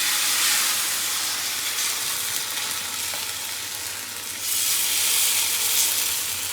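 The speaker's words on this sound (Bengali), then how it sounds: "তাওয়া গরম হয়ে গেছে, এখন ছোট ছোট করে ভাজবো।" Small chilla pancakes frying on a hot tawa, giving a loud continuous close sizzle and hiss that dips slightly midway and then swells again, with no talking.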